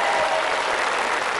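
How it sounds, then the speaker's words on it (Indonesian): Dense, steady studio audience applause on a family game show, loud and continuous throughout the short moment. "Tepuk tangan tuh."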